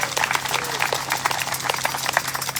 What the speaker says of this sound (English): Big round of applause for them and any volunteers out here for putting this together every single year.